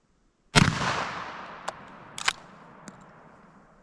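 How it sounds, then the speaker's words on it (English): A single loud, close blast from an Ishapore .410 Enfield musket firing triple-aught buckshot into a gel block, followed by a long fading echo and a few faint clicks or clatters afterward. "We're gonna go ahead and shoot it with this triple op buck"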